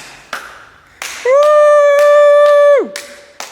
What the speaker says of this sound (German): Klatsch.